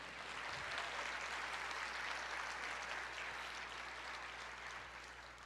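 Church congregation applauding during a sermon, a dense wash of many hands clapping at a distance that stays even and then thins slightly toward the end.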